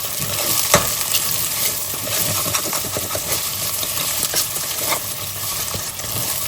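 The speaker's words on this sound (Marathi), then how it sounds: "आता आमी तितून घालया ही चॉप जिंजर गार्लिक, आमी बारीक कातरून दवरलेली ती। मातसो गो फ्राय करूया।" Finely chopped ginger and garlic frying with onions in a pan for Goan red masala beef curry, a close, steady sizzle with scattered stirring clinks and scrapes of the spoon, no voices.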